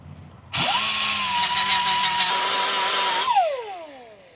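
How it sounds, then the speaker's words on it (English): A power tool with a sanding disc spins up and grinds a metal bracket flush on a Ford F53 rear track bar install, a loud steady high whine held for about three seconds before winding down. "So I've got my sanding disc here I'm going to use to just get that down flush with the surface of the bracket."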